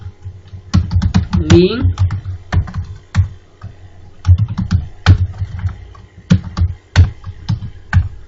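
Computer keyboard typing while entering a narration line in a Tally Prime contra voucher, with clusters of quick close key taps under and between a man's speech.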